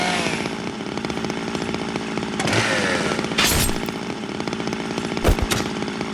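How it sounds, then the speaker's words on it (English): A chainsaw runs in the video game Zero Time Dilemma, a loud continuous buzzing roar that surges and revs, with sharp bursts and impacts cutting through, and no talk over it. "Akane, turn down the chainsaw."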